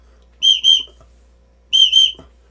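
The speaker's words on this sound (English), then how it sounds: "But these are surprisingly nice little whistles." Small 3D-printed whistle blown in two pairs of short, bright, shrill toots, close and loud with silence between.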